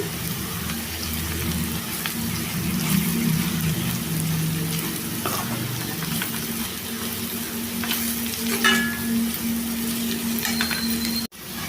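Ivy gourd with dried shrimp sizzles in a pan as chili powder is stirred in, a steady crackling fry with occasional scrapes of the spoon, close and continuous with no talking.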